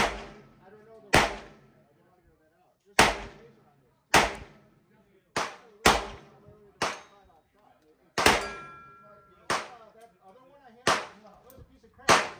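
About ten sharp gunshots from a Ruger PC 9 carbine crack out at uneven intervals. Each is loud and close, with a brief metallic ring and quick decay between them.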